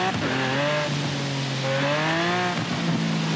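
A Lamborghini in the racing game Forza Horizon 4 drives with a loud, steady engine whine whose pitch rises and falls through gear changes, close and continuous throughout.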